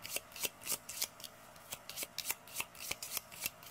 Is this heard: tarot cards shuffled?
yes